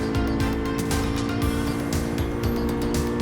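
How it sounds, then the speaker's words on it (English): A Honda Civic engine in the Gran Turismo 7 racing game holds a steady high-revving drone near redline, loud and continuous, with faint tire noise over the top. "Let the engine sing, here we go."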